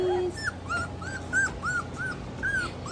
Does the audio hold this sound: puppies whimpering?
yes